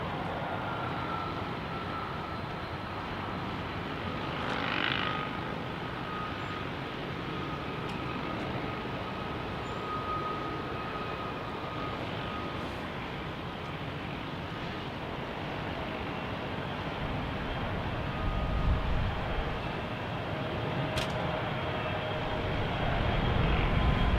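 An airliner taking off from runway 34 right at Salt Lake City makes a broad, distant jet roar that rumbles steadily and swells louder toward the end, with no one speaking.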